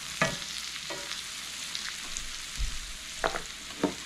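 Potatoes with kielbasa and bell peppers frying in a pan, a faint steady sizzle with a few brief stirring scrapes and clinks, no voices.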